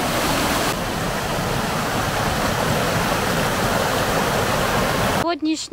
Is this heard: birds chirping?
no